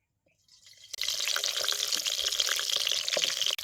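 Stuffed raw green tomatoes drop into hot oil over a wood-fired stove, and after a brief quiet moment a loud, dense sizzle bursts up and keeps crackling steadily.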